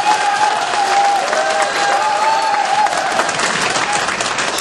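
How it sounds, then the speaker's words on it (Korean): Loud, steady applause from a large crowd at a Democratic Party joint campaign rally in Daegu–Gyeongbuk, dense clapping sustained throughout without a break. "박수 쳐드리겠습니다."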